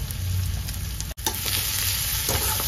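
Onions frying in a pan with Kashmiri chilli, for a raw jackfruit kalia, give a steady close sizzle with light stirring scrapes, and one brief dropout near the middle.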